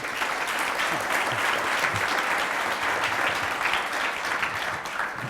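Audience at a London ad:tech keynote applauds steadily and fairly faintly, a continuous wash of clapping with no speech over it.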